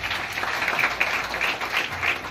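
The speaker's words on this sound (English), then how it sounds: "Let us give them a round of applause as well." An audience at a school recognition day breaks into a short burst of steady, moderately loud applause that fills the hall for a couple of seconds.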